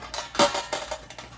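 Metallic clatter and knocks as a loaf of bread is turned out of a bread machine pan onto another pan, a few quick close taps and a louder clunk.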